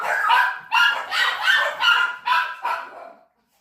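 Two dogs at home bark at a rustling outside the gate, giving a run of about seven loud, close, rapid barks with short gaps, then falling silent.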